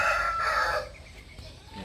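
A rooster crows once, a short strained call in the first second, then fades into quiet background noise.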